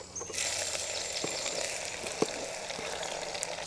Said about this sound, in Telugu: నూనె వేడెక్కగానే 3 లవంగా 2 ఇలాచి వేసుకుందాం. ఇప్పుడు ఉల్లిపాయలు వేసుకుందాం.